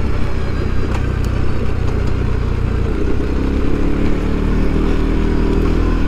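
A CFMOTO CFORCE 400 ATV engine braking on a very rough trail, a steady loud engine drone with clattering from the chassis and suspension, close and continuous throughout.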